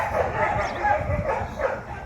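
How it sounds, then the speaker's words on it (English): Neighborhood dogs bark and yip back and forth at a distance, soft and muffled, under a person talking nearby. "The dogs are talking to each other."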